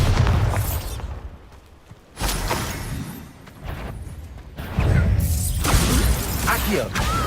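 A Bombarda blasting spell explodes in Hogwarts Legacy, loud booming bursts with shattering debris separated by brief quieter gaps, the blasts hitting hard and close.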